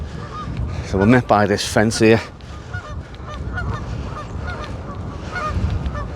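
Geese honk noisily in a loud burst of overlapping calls, then fade to scattered distant honks while someone talks over outdoor noise.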